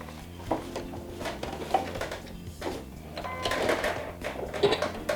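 A domestic sewing machine stitches through four layers of vinyl with stabilizer, a moderate mechanical whir and clatter running continuously at close range, slightly busier toward the end, with no speech.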